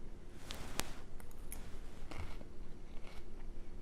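A big bite into a crunchy cilantro-garnished dish during a live televised heart-health event, with a sharp crunch followed by a few close, crackling chewing sounds and no talking.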